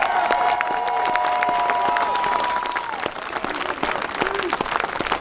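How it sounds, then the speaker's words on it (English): A crowd at a political rally applauds Tessa and Alan, steady loud clapping with scattered cheers and shouts, a held tone early on and a slight dip midway. "Let's give Tessa and Alan a big round of applause."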